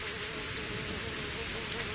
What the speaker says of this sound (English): I'm just trying to get away from the rain here for a second